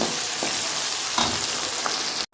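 Chopped tomato goes into a pan of upma and sizzles steadily at close range, with a few soft stirring scrapes over the continuous frying hiss.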